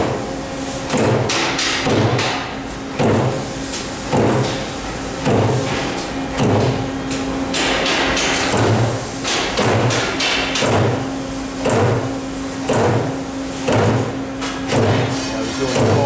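A Strippit LVD 1000H/30 hydraulic CNC turret punch press cycles steadily, its loud heavy thuds repeating roughly every second over a constant mechanical hum in a workshop.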